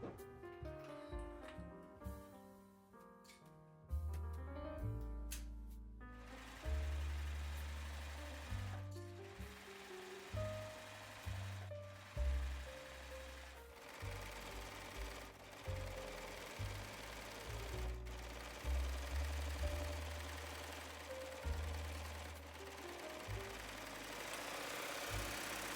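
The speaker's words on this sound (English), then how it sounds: "now we're gonna sew those side seams right here and right here, again with a 1/4 inch seam allowance" A sewing machine stitching the side seams of a crop top with a quarter-inch seam allowance, a steady rapid mechanical whir in bursts of several seconds, close and clear with no talk.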